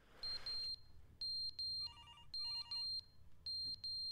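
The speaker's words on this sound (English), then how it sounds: "Sounds like a smoke alarm or something." An electronic alarm in the game The Stanley Parable beeping in repeated bursts: high, shrill pulsed tones in a steady on-off pattern, moderately loud and unaccompanied by talk.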